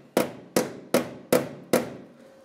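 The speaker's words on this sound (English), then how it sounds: "When we hammer, or when I'm hammering on this, I'm hammering on the patch panel that has to meet the old factory piece." Five sharp metal hammer blows land at a steady rhythm on a patch panel being fitted to the corner of a 2001-2006 Chevrolet Silverado 2500 cab, each strike ringing briefly before the next.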